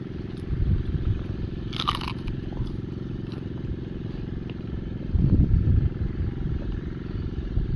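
Crispy fried skin is bitten and chewed close up, giving loud, steady crunching that swells again near the end over a continuous low rumble.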